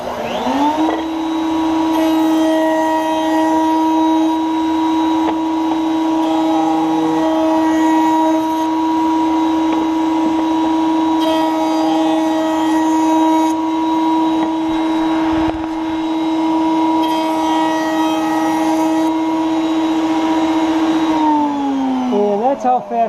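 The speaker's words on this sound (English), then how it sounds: "take it over to the router table. You want to round off all 4 edges." Router table running steadily as it rounds over all four edges of a wooden table leg, a loud sustained motor whine with cutting noise that holds for about twenty seconds, then winds down at the end.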